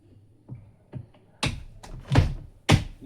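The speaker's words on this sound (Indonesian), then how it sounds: "Ini kita pasang yang pintu paling atas ya." The top door is fitted onto a Naiba plastic cabinet: a few soft plastic taps build into louder hollow thunks and knocks, irregularly spaced and close by, with no voices.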